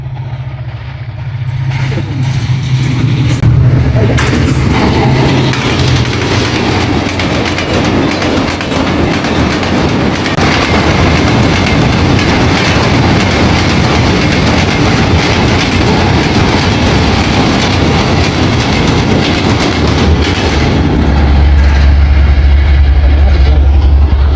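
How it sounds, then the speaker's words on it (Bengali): A train crosses a bridge in a loud, sustained roar with rhythmic clattering wheels and a low rumble, rising in the first seconds and staying heavy and close for the whole passage. "ট্রেন আসতেছে, তো আপনি দেখাবো যে ট্রেন আসলে কি অবস্থা হয়"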